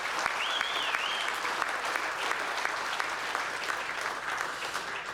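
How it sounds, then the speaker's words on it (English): An awards ceremony audience applauding the finalists, a full, continuous round of clapping with a brief whistle near the start, holding steady throughout. "Let's give them all a round of applause."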